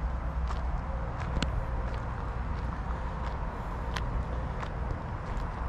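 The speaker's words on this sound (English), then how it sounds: "what you hear there is the freeway" Steady low rumble of distant freeway traffic in Yemassee, South Carolina, a constant wash of noise with faint clicks and taps scattered over it, no voices.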